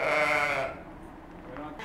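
A sheep lets out one loud, drawn-out bleat inside a barn on a large intensive flock farm, followed by quieter barn ambience.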